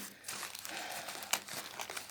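Packing paper crinkles and rustles as a parcel holding violet plants is unpacked, the paper damp, with close, loud scrunching and a sharp crackle partway through.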